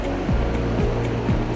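Water rushes out of the outflow of the Salto Santiago hydroelectric plant after turning the turbine, a loud, steady roaring wash of broad noise, close and unbroken, with no talk.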